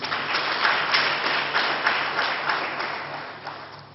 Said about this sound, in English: let's give the company a big round of applause